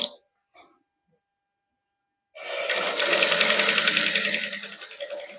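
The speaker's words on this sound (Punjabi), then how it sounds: "ਧਿਆਨ ਨਾਲ ਬਿਲਕੁਲ ਸਿੱਧੀ ਸਿੱਧੀ ਸਿਲਾਈ ਲਈ ਆਉਣੀ ਹੈ" A sewing machine stitches straight seams on thin cotton cloth backed with paper and sewn with three-colour thread. A few brief sounds come first, then the motor starts and whirs steadily and loudly for about three seconds.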